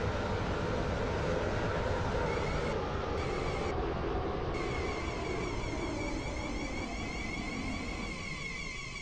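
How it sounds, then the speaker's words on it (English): A steady, loud video game train rumble of wheels running on rails, a Class 720 in Roblox Stepford County Railway, with a constant mechanical hum and no voices. "We will shortly be arriving at Stepford East."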